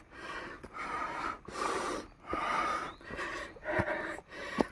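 Hiker out of breath while climbing Mt. Manabu, heavy rhythmic panting close to the mic, about five or six gasping inhale-exhale cycles with brief pauses.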